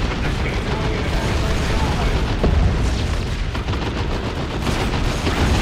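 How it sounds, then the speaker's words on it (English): A big cannon shot from a battle wagon in the real-time strategy game Dawn of War 2, with dense booming gunfire and artillery blasts rumbling continuously at high volume. "Oh, big shot from the battle wagon."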